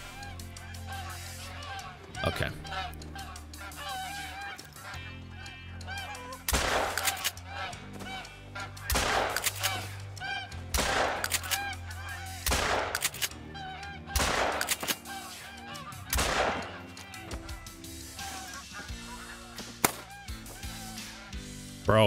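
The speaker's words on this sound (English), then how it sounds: "All of the geese." Geese honk in a hunting video game, loud repeated bursts of honking in waves over a droning background, with a few sharp gunshot-like cracks and a brief spoken word.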